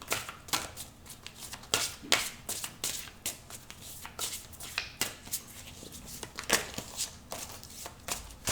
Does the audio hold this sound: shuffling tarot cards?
yes